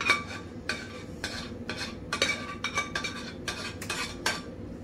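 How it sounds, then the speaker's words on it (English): Cream of mushroom soup being poured and spread over a tater tot casserole mixture in a dish, heard as repeated soft scraping and clinking strokes of a utensil against the dish in a steady rhythm, with no talking. "you just pour your cream of mushroom soup over your mixture"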